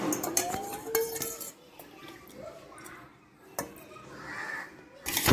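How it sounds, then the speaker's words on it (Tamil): Beaten flour batter being mixed into carrot juice for carrot halwa, with a spoon clinking and scraping against the vessel in quick bursts, then quieter stirring and a final clatter. "இது நம்ம இப்போ நல்லா மிக்ஸ் பண்ணிக்கலாம்"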